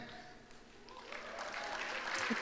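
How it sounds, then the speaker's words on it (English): Audience applause swells from a faint patter to steadier clapping over a couple of seconds in a presentation hall, fairly quiet and distant. "I thought you clapped better than that"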